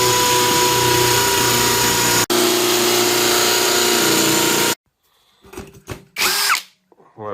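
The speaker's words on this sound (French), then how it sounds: "une visseuse, dévisseuse, perceuse sans fil, ça sert à faire des trous. Et là, il y a une petite fonction percussion" A Worx NITRO cordless drill runs loud and steady for several seconds in hammer mode, briefly pausing once, then stops, followed by a few short clunks and handling noises.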